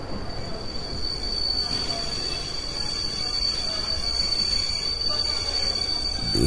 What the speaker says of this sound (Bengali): দেখতে দেখতে সত্যি একটা ট্রেন এসে দাঁড়ালে